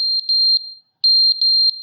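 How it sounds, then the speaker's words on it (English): A smoke alarm in The Stanley Parable emits a piercing, high steady tone broken by short pulsing chirps, cutting out briefly before sounding again, loud and alone. "Is that the fire alarm?"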